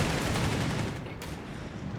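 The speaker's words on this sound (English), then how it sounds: "Taking suppressive fire!" Dense, continuous gunfire from a Company of Heroes 3 battle roars as a loud, unbroken fusillade that thins slightly toward the end.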